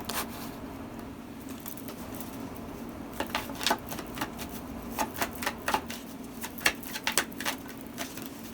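Tarot cards drawn and shuffled from a deck: soft, quick papery flicks and taps in irregular clusters, close and faint over a low steady hum.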